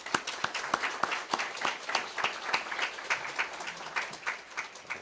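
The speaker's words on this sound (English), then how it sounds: "Give them a round of applause." A town-hall audience at a State of the Town event gives a steady, moderately loud round of applause, with dense overlapping claps throughout and almost no talking.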